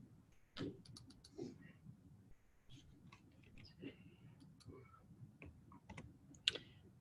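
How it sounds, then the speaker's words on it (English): Computer keyboard being typed on in a classroom setting, faint scattered key clicks in short irregular bursts with pauses, quiet and close, over low room noise. "I guess I'll just type it again."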